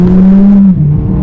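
Mercedes A45 AMG engine and exhaust, a five-door hot hatch, droning loud and close, then dropping in pitch with a brief burble as it changes down a gear.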